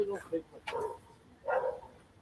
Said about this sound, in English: he's just barking at me